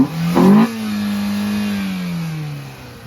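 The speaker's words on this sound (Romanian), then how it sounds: "sunetul de la motor. Ia, dă-i puțin." A VW Golf 4 fitted with a sport air filter revs its engine once, a sharp, loud blip that drops back to a steady idle hum and slowly fades, close by with no talk.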